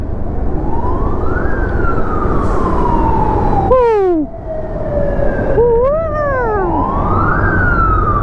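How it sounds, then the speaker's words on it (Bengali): An ambulance siren wails loud and close inside a road tunnel, rising and falling in long sweeps broken by two quick yelping bursts, over a heavy rumble of traffic and engine noise echoing off the walls. "অ্যাম্বুলেন্স"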